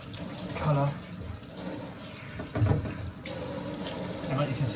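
A hair system rinsed under a running tap: a steady rush of water splashing into a sink with shifting gurgles as it is squeezed, close up, with a voice speaking faintly underneath.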